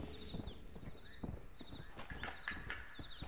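Horse hooves in Red Dead Redemption clip-clopping at a steady walking rhythm, faint, with crickets chirping in the background.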